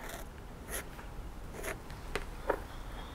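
Kmart calligraphy nib pen scratching across paper in several short, separate strokes, faint and close, with no talking.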